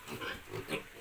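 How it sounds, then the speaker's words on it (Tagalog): Piglets grunt and oink in a few quick, close, overlapping snorts over about a second, heard alone without talk. "Mga biik."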